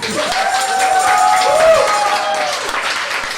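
Dense applause from a crowd, loud and continuous, with voices calling out over the clapping.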